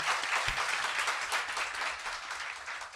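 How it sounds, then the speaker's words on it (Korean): A small studio group applauds during a Korean talk show discussing the Sewol ferry sinking, a dense, even patter of clapping at moderate distance with no voices over it. "박수."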